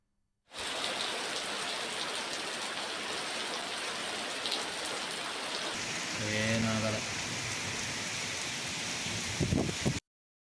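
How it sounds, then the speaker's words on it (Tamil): Heavy rain driven by strong wind in the Hosur area of Krishnagiri district, a dense continuous roar of downpour on surfaces, swelling into a louder gust with a low rumble partway through, then cut off abruptly. "பலத்த காற்றுடன் கனமழை பெய்தது"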